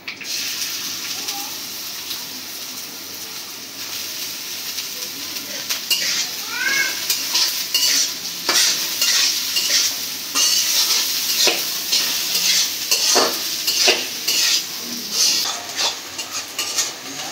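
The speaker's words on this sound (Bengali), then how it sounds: "পেঁয়াজটা ভেজে নিছি" Chopped onions fry in oil with cinnamon, cloves and bay leaf, a close crackling sizzle that grows louder as they go in, broken by stirring scrapes and pan clatter.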